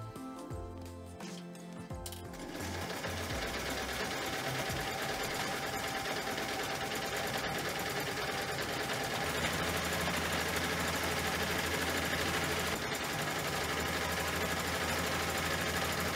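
A sewing machine stitches fabric panels of adjustable split-side pants, starting after a short pause and then running in a steady, loud, continuous mechanical whir up close with no pauses.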